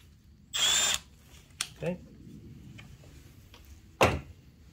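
Power tool, likely a drill or impact driver, loosening a 10 mm bolt on a 2020 Chevy Malibu 1.5 during vacuum pump work: one loud burst of about half a second, later short clicks and a final sharp knock.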